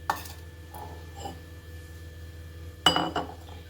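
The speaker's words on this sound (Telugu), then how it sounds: "మిక్సింగ్ బౌల్ తీసుకుందాము" A mixing bowl for cauliflower 65 is picked up and set down in a kitchen, making a few sharp metallic clinks and clatters, one at the start and a louder pair near the end, over a quiet background.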